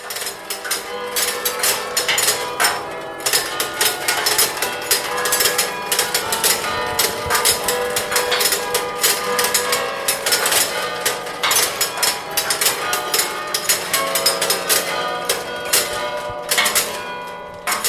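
Carillon bells in the Mons belfry are struck by an automatic hammer mechanism driven by a large music-box-style cylinder. The loud metallic strikes form a dense, continuous ringing melody that is close and deafening, with no voices over it.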